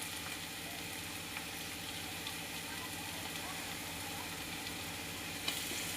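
Onions with garlic and cumin sizzle steadily in a pan, browning in a home kitchen; a continuous, even frying hiss runs throughout without pause.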